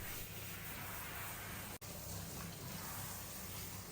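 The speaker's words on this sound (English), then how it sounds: "After rinsing off the worst of the dust, Darcy was starting to lather him up" Continuous soft hiss of water rinsing dust off a Springer Spaniel in a grooming bath, steady and fairly faint apart from one brief dropout midway, with no talking.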